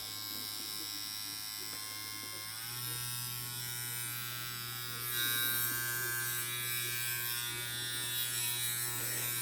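A WOS E60 wireless direct-drive tattoo pen machine hums with a steady electric buzz, close and constant, its pitch shifting slightly as it is adjusted partway through.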